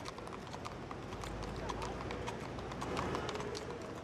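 Hooves of police mounted-unit horses clip-clop in a dense, steady patter of overlapping hoof strikes, continuous throughout against a busy background with voices.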